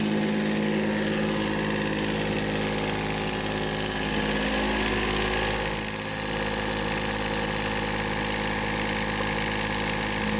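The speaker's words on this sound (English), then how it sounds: "We just started the engine to come into the anchorage" A steady, droning boat engine idles close by, an even mechanical hum with a faint high whine and no voices.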